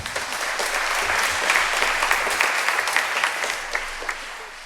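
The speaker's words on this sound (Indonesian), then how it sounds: "Tepuk tangan untuk Bapak Kardinal kita." A church congregation at a Sunday Lenten Mass applauds the Cardinal, a full, continuous roar of clapping filling a large space, steady throughout with scattered louder claps near the end.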